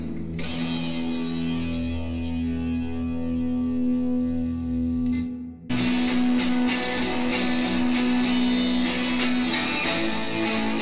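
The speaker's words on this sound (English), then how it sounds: "it still distorts the sound like crazy." Guitar run through an echo effects unit with the echo turned nearly off, still heavily distorting: a sustained buzzing, saturated tone that breaks briefly, then returns with choppy strummed attacks.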